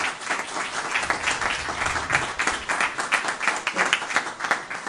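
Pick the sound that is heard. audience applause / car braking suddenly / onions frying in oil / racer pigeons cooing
audience applause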